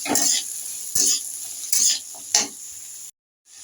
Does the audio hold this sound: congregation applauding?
no